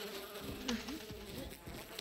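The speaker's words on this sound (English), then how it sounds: "Oh, bees!" Bees buzzing in the video game Far Cry 5, a faint, wavering insect drone with a few passes nearby over a quiet background.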